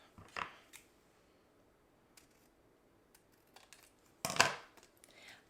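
A folded paper scrap is snipped off with scissors: a few sharp, crisp cuts, one near the start and a louder one later, with near silence and small paper rustles between them.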